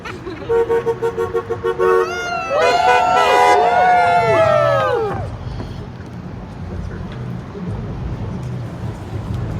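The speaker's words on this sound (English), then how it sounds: "It's fun getting all the honks" Several car horns honk at a street rally in downtown Reading: a rapid series of short toots, then overlapping long blasts, fading into traffic noise and distant crowd murmur.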